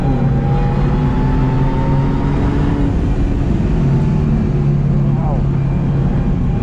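BMW M2 Competition race car tuned to 550 bhp pushed hard around a track, engine droning loud and near with rising and falling pitch through gear changes and acceleration.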